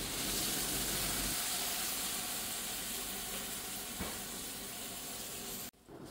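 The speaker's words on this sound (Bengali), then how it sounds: "গাজরটা নরম হওয়া পর্যন্ত আমি ভেজে নেব।" Carrots fry in a pan for chicken bukhari rice, a dense, steady hiss of sizzling oil up close that continues unbroken until a brief drop right at the end.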